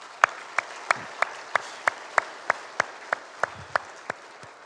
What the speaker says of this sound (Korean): 우리 부모님들께 박수로 감사하겠습니다